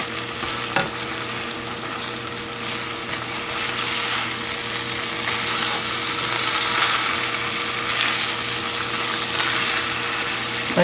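Sauce stirred in a frying pan for messy Phillies, a steady close sizzle with scraping spoon strokes that swells slightly in the middle.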